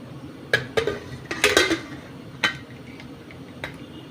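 Clicks and clacks of a pressure cooker lid being closed and locked over sweet potatoes boiling in their skins, several sharp close metallic taps and snaps in a quiet kitchen.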